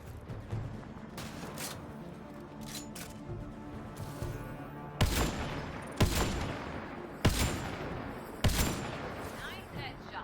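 Gunfire during a firefight in the sci-fi shooter game Mass Effect Andromeda, with a headshot: a series of loud, sharp shots at irregular intervals, several heavy blasts standing out over a busy bed of game sound and background voices.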